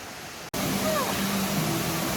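Steady broadband rush of falling water, continuous and full, from the second tier of Lovers Valley waterfall in Maolin National Scenic Area, Kaohsiung, with no breaks after a brief initial cut.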